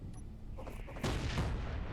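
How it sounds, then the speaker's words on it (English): An assault cannon hit lands in an underground fight in a video game: one heavy, muffled boom midway that swells into a rumbling roar over a low background din. "You just got hit by a assault cannon."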